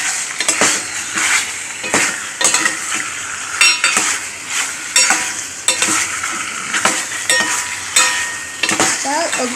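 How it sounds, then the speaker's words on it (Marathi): Chicken pieces coated in turmeric and ginger-garlic paste sizzle and fry in a pan while a utensil stirs them, giving steady scraping strokes and light metal clinks close up, with no talking. "चांगलं असं परतवून घ्यायचं, जेणेकरून सर्व पीसेसला हळद आलं लसणाची पेस्ट लागायला पाहिजे।"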